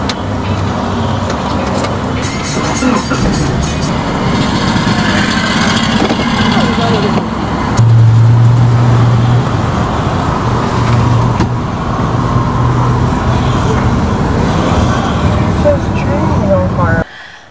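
A car drives along a road in Abuja, heard from inside as a steady loud rumble of engine and road noise with passing traffic, while people talk over it throughout.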